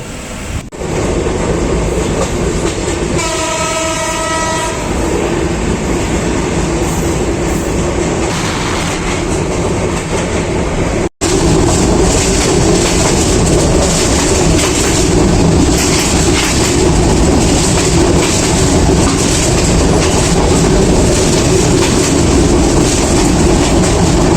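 The steady rumble and rhythmic clatter of a moving passenger train fill the whole stretch, with a brief tonal whine early on and a momentary dropout midway.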